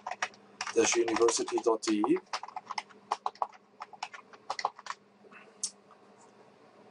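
Computer keyboard keys clicking in quick irregular bursts as a VPN server address is typed in, close and fairly loud, with a person talking over the first part.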